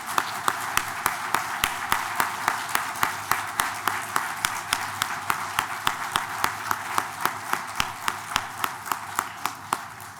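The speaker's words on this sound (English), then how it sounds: "Let's give him one more round of applause." Audience applause at a university medical college celebration honoring a doctor, with individual hand claps sounding crisp and steady throughout, loud and close, with little talk.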